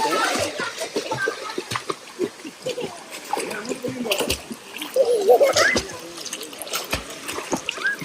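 Splashing in an outdoor swimming pool at sunset, irregular bursts of slaps and splatters close by, with trickling water and faint voices of children and adults mixed in.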